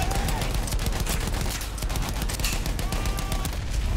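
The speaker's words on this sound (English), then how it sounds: "I'm just gonna sit here with my gun and then just sort of shoot people in the face until they die." Rapid gunfire from a World War I battle in Battlefield 1, a steady stream of sharp shots and bursts over a constant rumbling battlefield din, moderately loud and continuous.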